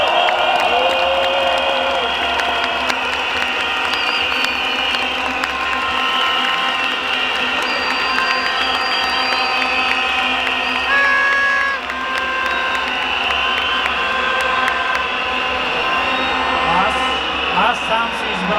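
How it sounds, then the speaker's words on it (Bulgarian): A large crowd at an outdoor protest applauds and cheers continuously, with whistles and shouts rising over a dense, sustained roar and voices mixed throughout. "Моля вашите бурни аплодисменти"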